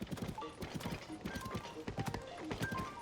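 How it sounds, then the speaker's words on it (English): Horse hooves galloping in The Legend of Zelda: Tears of the Kingdom, a rapid rhythmic clip-clop of repeated hoofbeats, close and steady with faint in-game ambience beneath. "as long as I don't end up riding my horse into the"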